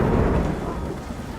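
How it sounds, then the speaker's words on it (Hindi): Rain pours over a farmer's field while deep thunder rumbles, a heavy, continuous low roar that slowly fades, with steady rain hiss throughout. "बारिश की बूंदें अब भी गिर रही हैं"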